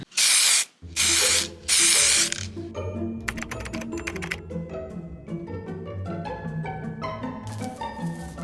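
Three loud hissing bursts of spray varnish being applied to a wooden desk, each about a second long with short gaps, followed by clicking and tapping over background music.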